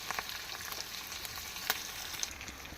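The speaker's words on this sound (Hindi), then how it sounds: "तो पियाजटी लाल होला पर्यंत ताको भल भाबरे भाजिबा" Onion frying in a pan until reddened, for lemon rice: a continuous dense sizzle with small crackles and occasional spatula scrapes, close and fairly quiet.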